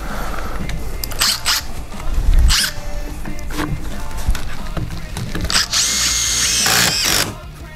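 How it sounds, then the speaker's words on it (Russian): A Makita power drill whirs in short bursts into wood, with a longer high-pitched grinding run near the end, close and loud. "Будем сверлить вот до этого."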